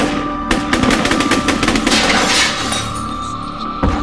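Assault rifle fire in a radio drama: rapid bursts of sharp cracks come with crashing and clinking debris, loud and close, and end with a final isolated shot.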